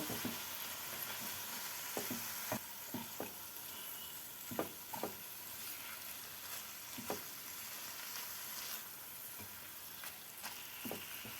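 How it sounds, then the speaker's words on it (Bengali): Chicken mince frying with spices in a pan: a steady hiss of sizzling oil with intermittent scraping stirs of a spatula, fairly quiet and close, no voices. "চিকেন কিমাটাকে মশলার সাথে ভালো করে মিশিয়ে ভেজে নিয়েছি"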